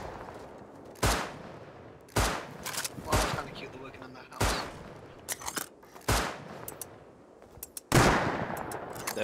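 Gunfire in the survival game Rust: six sharp, loud shots spaced about every one to two seconds, each with a short decaying tail, over a steady background hum.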